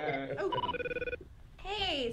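Telephone-style ringtone from a cell phone rings loud and close in a few quick repeated electronic bursts, dropping out briefly before a rising warbling tone returns, with a voice faintly beneath.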